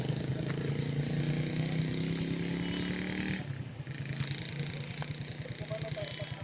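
A motorcycle engine idles close by with a steady low throb, then its pitch drops and a rougher, pulsing rumble continues as it draws near at a hanging bridge, with faint background noise.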